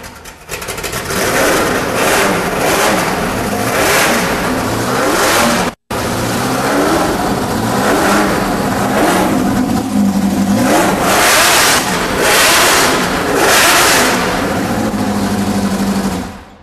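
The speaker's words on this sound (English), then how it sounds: "Fire up the GT40." Ford GT40 fitted with downdraft Weber carburetors and its distinctive exhaust revs hard in repeated sharp bursts, loud and close, with a brief cutout midway before the revving resumes.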